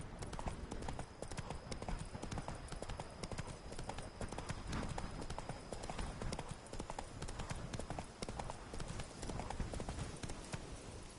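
Roach, the horse in The Witcher 3, gallops in a rapid, continuous drum of hoofbeats under dense game ambience, steady and fairly quiet throughout.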